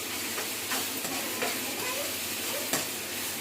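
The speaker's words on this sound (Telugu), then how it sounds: "ఉల్లిపాయలు అయితే బాగా ఫ్రై అవుతున్నాయండి" Onions frying in a pan for chicken curry, a dense continuous sizzle with scraping stirs and a few sharp ticks of a spoon against the pan, close and fairly loud.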